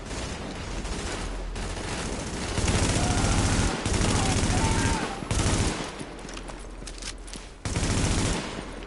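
Rapid bursts of automatic gunfire in an apocalypse shooter game, dense and loud, swelling and dropping in sustained volleys with brief gaps between them.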